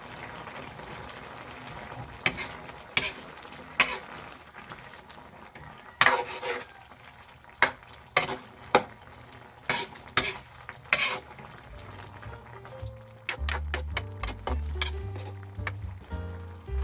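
Squid adobo bubbles in a pan while long chili peppers are tossed in, giving a soft simmer under a string of sharp clinks and clatters of utensils against cookware, busier toward the end.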